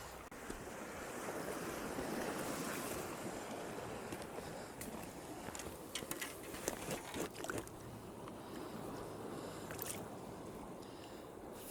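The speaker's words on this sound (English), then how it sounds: "Now the tide has started flooding in" Sea waves washing against a rocky fishing shore as the evening tide floods in, a steady broad surf wash with gusts of wind buffeting the microphone.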